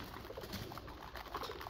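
Pigeons being trained to fly give soft, faint cooing calls in a brief, quiet moment.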